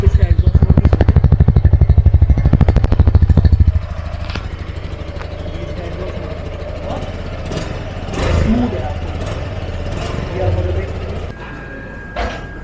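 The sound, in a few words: Suzuki Intruder 150 motorcycle exhaust running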